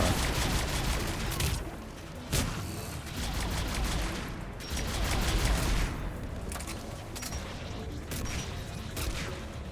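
Javelin rifle gunfire in Mass Effect 3 comes as sharp, loud shots at irregular intervals, each cutting through dense, roaring battle noise.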